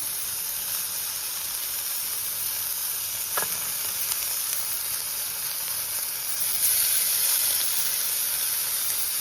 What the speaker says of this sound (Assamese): এতিয়া কেৰাহী গৰম হোৱাৰ পিছত মই মাছকেইপিচ দি দিম।